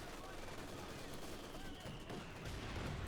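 Mortar and gunfire from a Company of Heroes 2 strategy battle make a dense, continuous crackle of shots and blasts that runs for a few seconds at a fairly low level.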